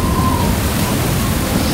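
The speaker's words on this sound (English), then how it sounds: "ramp up the rain" Heavy simulated rain in the Unigine Valley benchmark demo hisses as a dense, steady, loud wash of noise with no break and no voices.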